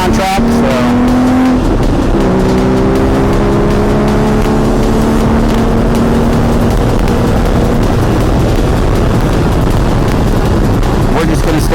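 A Porsche 981 GT4 held in third gear on a race track, its engine droning loud and continuous with rising and falling pitch, the roar filling everything while a voice talks underneath.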